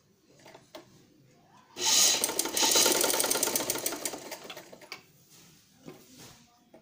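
Sewing machine stitching trouser fabric in a short loud burst of rapid mechanical rattling that fades out, with quieter handling noises before and after.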